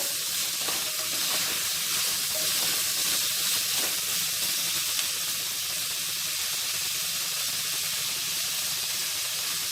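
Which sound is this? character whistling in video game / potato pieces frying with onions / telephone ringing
potato pieces frying with onions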